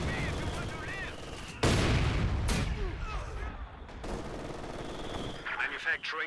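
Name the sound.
machine gun fire in video game Company of Heroes 2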